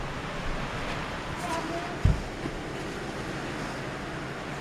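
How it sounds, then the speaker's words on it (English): Strong wind blowing in a snowstorm in Glendo, Wyoming, a steady broadband roar with a brief thump near the middle and faint voices in the background. "Listen to the wind."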